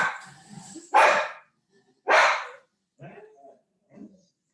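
A dog gives two loud close barks, followed by two softer, shorter yips that trail off into quiet.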